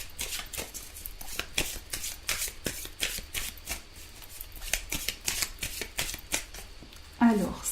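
Close, crisp riffle-shuffling of a tarot deck, a rapid train of sharp papery slaps repeated over and over, with a short louder rustle near the end.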